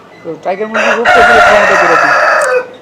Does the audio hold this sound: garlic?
no